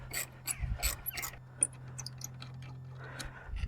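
A ratchet spanner works on a Mazda MX5 NC during brake caliper maintenance, making a close, fairly quiet series of rapid mechanical clicks and rasps in irregular bursts, with no talking.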